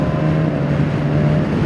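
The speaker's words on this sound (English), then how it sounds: "Let me get those higher revs." A BMW S 1000 XR motorcycle engine runs loud and close at high revs, a steady buzzing drone with wind rush over it.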